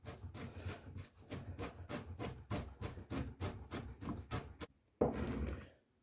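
Knife chops rapidly on a wooden board, a regular close run of crisp thuds at about three per second, then a pause and a brief scraping sweep.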